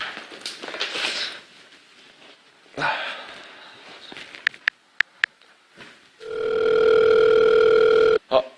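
A telephone call goes out, with a voice and a few clicks and taps first, then a steady electronic ringing tone holds for about two seconds before cutting off.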